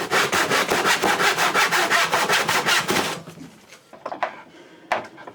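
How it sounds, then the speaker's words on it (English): A hand saw cross-cuts through wood in a steady run of about fourteen loud, close strokes lasting three seconds, then stops, leaving a few faint knocks and scrapes. "the rest of it is just sawing straight down with your saw straight"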